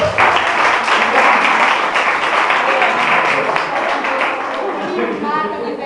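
A church congregation claps in a sustained, dense burst that holds steady throughout, with voices mixed in beneath the applause.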